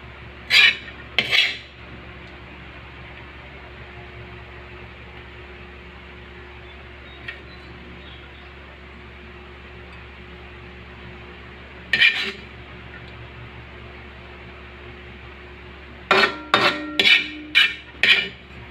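Garlic fried rice (sinangag) cooking in a pan, a low continuous sizzle under sharp metallic scrapes and clanks of a spatula on the pan, a couple near the start, one midway and a quick burst of several at the end.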